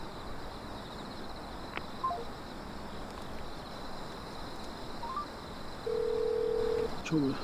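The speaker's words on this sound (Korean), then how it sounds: "갑자기 정혜에게서 연락이 옵니다." A mobile phone gives short electronic beeps, then a longer steady tone as a call comes through in a Korean drama scene, all over a low constant hum with faint voices.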